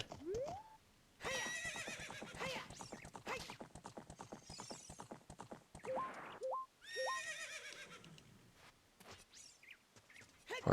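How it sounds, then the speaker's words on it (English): A horse in Ocarina of Time neighs several times in sharp rising whinnies, mixed with quick clip-clop hoofbeats, close and clear. "Horse."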